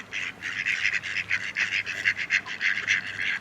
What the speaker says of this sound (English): All the ducks thinking we've got some bread in us, but we haven't.